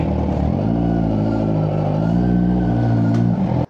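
A new Kawasaki ZX6R sport bike engine held at high RPM, a loud, close, sustained harmonic scream with a slight waver that cuts off abruptly at the end.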